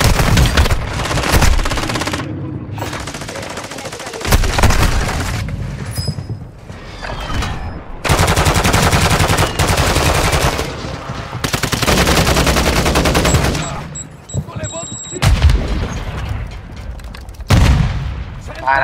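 Rapid bursts of automatic gunfire and loud booms from Call of Duty: Warzone 2.0, coming in heavy volleys with short pauses between them.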